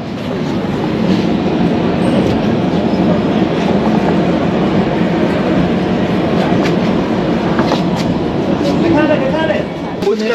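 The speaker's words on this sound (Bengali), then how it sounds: "ট্রেন ছাড়লো 8:16, 1 মিনিট দেরিতে ছেড়েছে" The Puri-Howrah Superfast Express pulls out of the station, heard from inside a first-class carriage as a close, steady rumble with faint rail clicks throughout.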